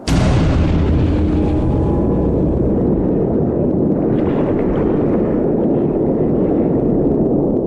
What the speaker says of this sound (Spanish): De repente, una explosión sacude la nave.